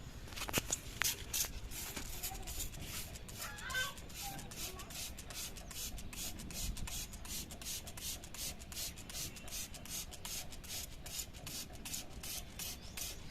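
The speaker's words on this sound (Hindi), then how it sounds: "तो अब मैं ये इसमें स्प्रे करूंगी।" Chili spray is pumped onto a mealybug-infested tomato plant in a rooftop garden, heard as a quick run of short, close, hissing spritzes mixed with rubbing and rustling of leaves, growing denser toward the end.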